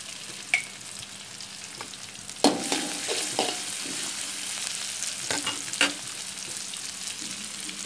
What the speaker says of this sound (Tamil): இஞ்சி, வெங்காயம் கொஞ்சம் வதங்க எடுத்துக்கலாம்.